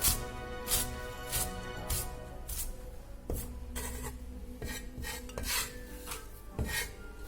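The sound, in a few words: knife cutting Chinese chives into pieces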